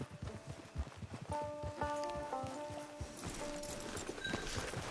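Horse hooves clip-clop along in a cowboy video game, a steady trotting patter near and mid-loud, with rustling and tonal game music layered over it.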